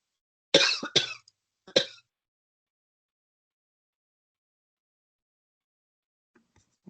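A few sharp, close coughs in quick succession on an online webinar call, then near silence.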